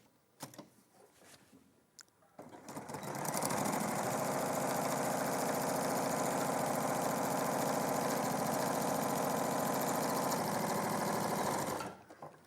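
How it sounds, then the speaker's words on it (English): A sewing machine stitches across the top edge of a piece of fabric. After a few quiet handling clicks, the motor whirs up to a loud, steady, even buzz for about nine seconds, then stops abruptly. "And I'll sew it again across the top edge."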